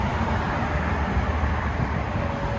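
Dense, steady road traffic roars beside a busy road in Baku, Azerbaijan, a loud continuous wash of engine and tire noise with no clear pauses and no talking.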